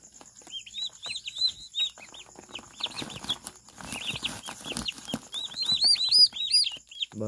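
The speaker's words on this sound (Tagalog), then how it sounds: "Bali walo silang sisiyo na pabo." Several turkey chicks peep and cheep in high, rapid calls, close by, with scattered rustling and handling noises between bursts.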